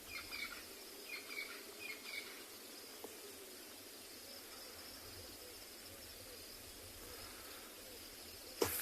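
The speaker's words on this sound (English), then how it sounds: "All these birds starting to chirp a little bit as it's heating up. Some crested francolin going off on the side." Morning bush ambience on safari in South Africa with crested francolin and other birds calling faintly in the distance, brief bursts of calls over a steady insect drone.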